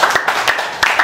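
A short, loud burst of scattered clapping from an audience at a lecture, with a few distinct sharp claps standing out across about a second.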